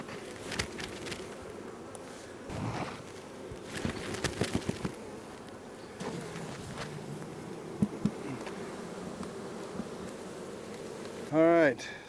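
Honeybees buzzing steadily as they are shaken off a hive super during a honey harvest, a dense insect drone throughout with a few knocks and handling noises and a louder close buzz near the end.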